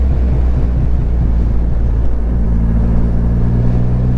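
A Ducati Streetfighter V4 or Triumph Rocket 3 R motorcycle engine drones steadily under throttle on the road, heavily buffeted by wind rush, with a low engine note emerging in the second half.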